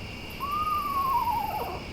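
A screech owl calls once at night, a single clear whistled note that rises then slowly slides downward, heard alone over quiet background hiss.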